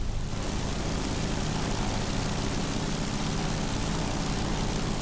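World of Warplanes fighter climbing steeply on engine boost, a steady, dense propeller-engine drone that holds loud and even throughout with no break.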